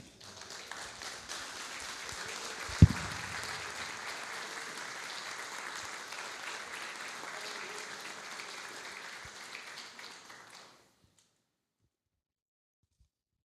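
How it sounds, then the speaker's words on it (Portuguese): Church congregation applauding in worship, a broad steady wash of clapping for about ten seconds with one sharp close bump early on, then cutting off into silence. "Enquanto você glorifica a Deus, aplaudindo Ele"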